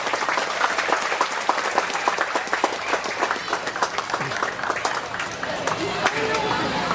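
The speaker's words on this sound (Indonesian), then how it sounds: "Tepuk tangan untuk pramuka." Loud, dense applause from a crowd at an Indonesian community gathering with prayer and a shared iftar meal, sustained for several seconds as many hands clap together, with some crowd murmur underneath.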